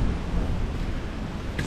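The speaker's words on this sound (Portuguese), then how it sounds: "Temporal violento" Roaring wind and heavy rain batter the microphone in a dense, continuous wash of noise, loud and close, with no clear voices.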